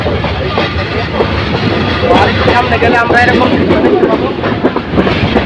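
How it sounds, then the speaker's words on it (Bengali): Parabot Express train on the Dhaka to Sylhet line rolls along the rails with a loud, rumbling clatter and rushing wind, while someone talks over it near the microphone. "এই যে ট্রেনটি একটি বাক নিয়ে দ্রুতগতিতে সামনের দিকে এগিয়ে চলছে"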